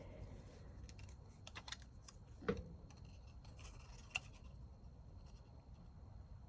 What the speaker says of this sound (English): I'm going to cut right on this line.